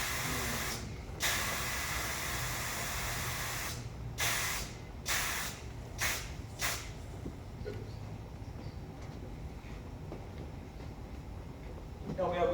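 Compressed air blowing into a tire: one long loud hiss, then a rapid series of short bursts, each breaking off sharply, followed by quieter background noise.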